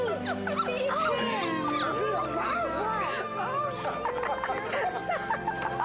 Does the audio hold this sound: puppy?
yes